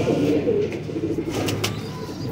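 Pigeons coo softly in low, burbling throaty calls that repeat for a couple of seconds, heard close by amid light background noise.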